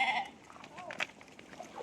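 Sheep bleating briefly while being watered, a short, fairly faint cry with some soft background noise.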